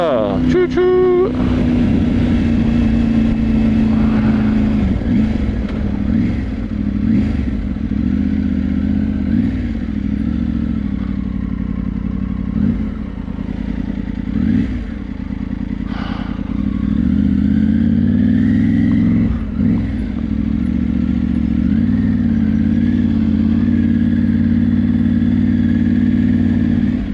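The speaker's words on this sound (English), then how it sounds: "Motorcycle, car." Motorcycle and car engines pass close by on a road on the Isle of Bike, a loud steady engine drone with rising and falling pitch sweeps as vehicles go by, with voices talking over it.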